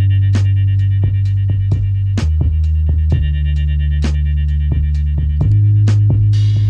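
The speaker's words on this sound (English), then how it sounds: "If you have headphones on, listen in your right headphone, and you'll hear the delay on that organ." Sustained organ chords with a delay echoing to the right side ride over a steady, loud, grimy boom bap beat, with a deep throbbing low end and regular sharp drum hits throughout.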